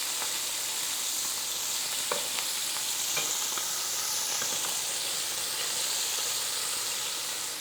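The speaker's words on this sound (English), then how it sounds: "We want a good sear on them." Chunks of chili meat sear in a big pot, a loud, continuous hiss and sizzle with occasional pops and crackles, close up and with no voices.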